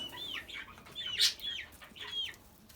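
Egg-laying hens and chicks in a village coop, several short chirps and clucks in quick succession, close and moderately loud, with no talk.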